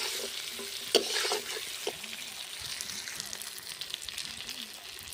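Pieces of rohu fish fry in spiced oil in a pan, a soft crackling sizzle with a louder burst near the start and light stirring taps, while a faint voice murmurs in the background.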